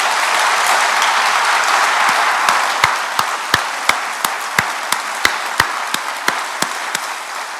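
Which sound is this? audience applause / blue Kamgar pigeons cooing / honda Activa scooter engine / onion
audience applause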